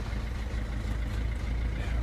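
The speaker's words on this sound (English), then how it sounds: "If I start the engine" A Citroen C3 with a faulty cabin fan idles at close range, giving a steady low rumble with a faint higher whirr and no other sounds.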